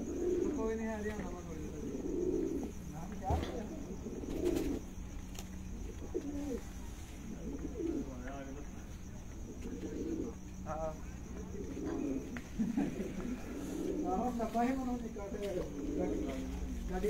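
Performer pigeons in a loft give soft, repeated coos in short rising-and-falling phrases, fairly faint against a steady background hum.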